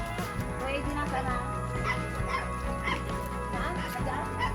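A dog makes soft barks, yips and whimpers at close range, with people talking over it in a home setting.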